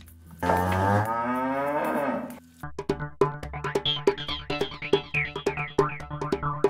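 A dairy cow on a small farm gives one loud, drawn-out moo during milking, followed by a close run of sharp, rhythmic clicking sounds.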